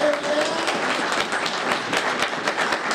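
Warm applause from a convention audience for two people in steampunk costume taking a bow, dense steady clapping throughout with a faint voice briefly heard near the start.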